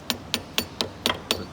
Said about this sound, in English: quite literally pressed into place and given just a little bit of a tap